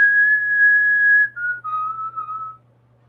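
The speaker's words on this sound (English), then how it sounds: "I literally whistle at the end of every song, too, man." A person whistles a tune alone and close: one long steady held note, then two lower notes stepping down, clear and loud over a faint low hum.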